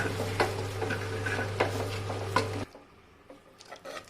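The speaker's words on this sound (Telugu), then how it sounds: "దీంట్లో కొంచెం ఉప్పు వేసుకొని పప్పు గుత్తితోని ఇలా మెదుపుకుందాము." A dal masher presses and squishes roasted brinjal with salt, giving soft, irregular squelching taps and knocks against the bowl over a steady hum that cuts out partway.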